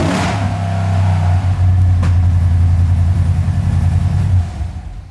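A 1967 Ford Mustang Fastback with a swapped-in Ford Coyote V8 rumbles loud and close, holding a deep steady revving drone for several seconds before easing off near the end.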